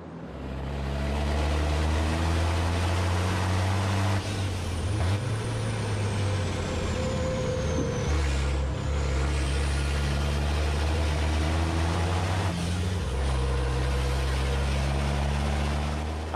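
Racing trucks, among them a Freightliner, roar around the Nürburgring in a European truck racing championship round, with loud, sustained heavy diesel engine drone and shifting pitch as they pass, close and continuous.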